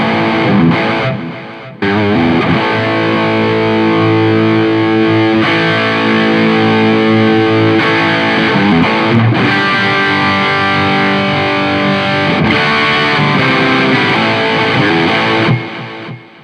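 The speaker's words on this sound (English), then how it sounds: "So that's pretty good, just with the distortion pedal in the cab and the delay." Electric guitar through an HX Stomp distortion pedal with cab simulation and delay, loud, dense sustained chords changed every few seconds, with brief breaks and delay tails carrying between them.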